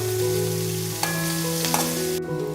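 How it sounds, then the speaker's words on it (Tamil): Chopped onions sautéing in hot oil in a pan, a loud, steady sizzle and hiss with a couple of brief stirring scrapes, no voices. "வெங்காயம் நல்லா வதங்கணும்."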